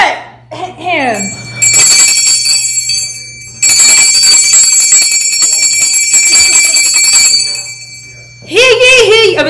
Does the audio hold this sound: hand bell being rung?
yes